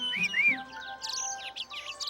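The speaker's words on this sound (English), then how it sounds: "don't you just love the birds?" Birds chirp and tweet in short, bright, repeated calls, fairly close and clear, with a few rising whistled notes at the start and a quick series of chirps following, no talking.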